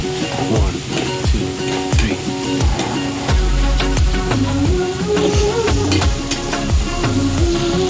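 Meat fries in oil in a pan as it is stirred: a continuous bright sizzle broken by repeated scraping and knocking strokes of the spoon, close and loud.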